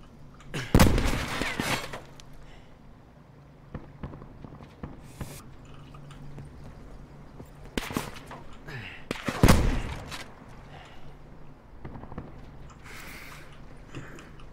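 Escape from Tarkov gunfire: a few sharp, loud shot bursts crack out at separated moments, with short volleys near the start and around two-thirds through, over a quieter game background.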